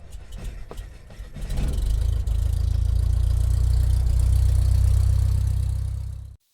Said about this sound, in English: here is my new to me 1955 Citroen Traction Avant 11BL, 11L, it's a Legere